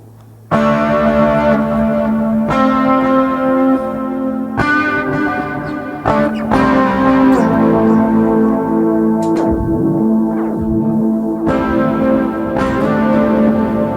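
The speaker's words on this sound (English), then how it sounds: "that is my favourite guitar sound, which I then normally drop an inordinate amount of reverb in it" A loud electric guitar rings out sustained chords drenched in heavy reverb, each strum blooming and lingering with a shimmering, bell-like tail.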